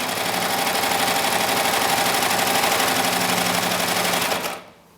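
A Baby Lock Evolution serger stitching a rolled edge runs at a steady, loud mechanical whir with rapid stitching chatter for about four and a half seconds, then stops abruptly and leaves silence.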